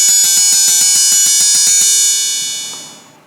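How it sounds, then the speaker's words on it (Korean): A cymbal sample in a drum sampler plug-in is triggered about a dozen times in quick, even succession, each bright metallic hit stacking on the last, then the final one rings out and fades over a second. "근데 지속음이 좀 긴 걸로 해보면은 심벌로 해볼까요?"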